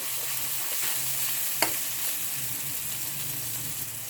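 Fried garlic stirred in a pan for an ampalaya, egg and tuna dish: a steady close sizzle throughout, with one sharp clink of the utensil against the pan partway through and no talking.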